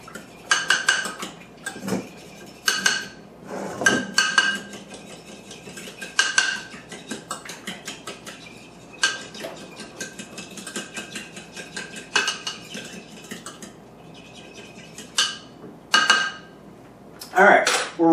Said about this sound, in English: Beat the two together.